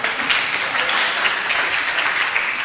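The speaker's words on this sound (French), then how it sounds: "vous pouvez applaudir aussi si vous voulez" Audience applause in a hall during a talk, a dense, steady wash of many hands clapping at an even, fairly loud level for the whole stretch.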